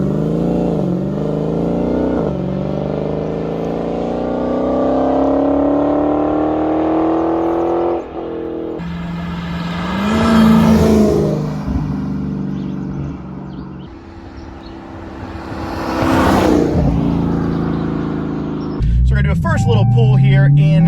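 A 2020 Dodge Challenger Hellcat Red Eye accelerates hard in loud rising pulls, its supercharged engine climbing through gears with brief drops between shifts, heard from inside the car with some talk over it.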